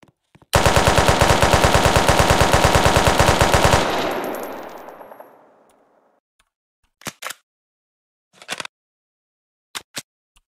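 An AK rifle in the game SSRP fires one loud, rapid automatic burst of about three seconds that rings off into a fading tail, followed by a few sharp isolated clicks.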